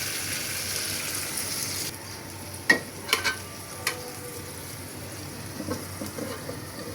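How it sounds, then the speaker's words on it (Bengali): Spice paste frying in a pan, a continuous moderate sizzle that softens partway through, broken by several sharp knocks and scrapes of utensils. "মশলাটা কষাবো ঢেকে রেখে"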